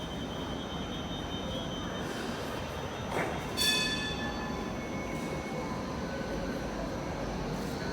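A Hong Kong light rail train passes at a distance with a faint, steady rumble, a brief bell-like ring and a short metallic squeal midway through.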